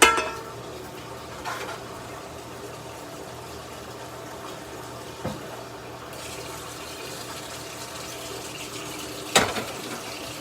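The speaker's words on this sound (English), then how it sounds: "I'm going to put some water in this, about an inch, half an inch high." Water from a kitchen tap runs steadily into a cooking pot, a soft continuous hiss and splash with a few brief metallic knocks of the pot against the sink.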